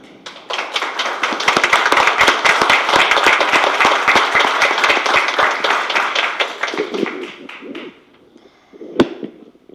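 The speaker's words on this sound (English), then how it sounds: "So we can applaud family" Loud, dense applause from a crowd fills the room for several seconds, then quickly fades into quiet murmuring with a single sharp clap.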